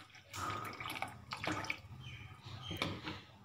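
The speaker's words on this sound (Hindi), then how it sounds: "अब हम इसके अंदर पानी ऐड करेंगे।" Water pours into a mixing bowl while a homemade night whitening spray is prepared with a tablespoon of another ingredient, a steady close splashing trickle running through with a few brief drips and splashes.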